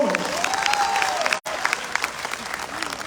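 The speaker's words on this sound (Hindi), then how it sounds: "जोरदार तालियां हमारे और सीनियर लीडर्स के लिए" Audience applause at a gathering, dense steady clapping from a crowd with a brief break, a faint tonal sweep and a voice over it.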